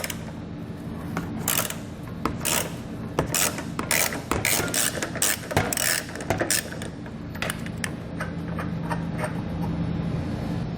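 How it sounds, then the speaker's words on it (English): A hand ratchet loosens 21mm subframe nuts on a 2011 Ford Fusion, giving repeated bursts of crisp, close clicking with brief pauses between strokes. "we're going to remove the subframe hardware, and that's going to be a 21mm nut"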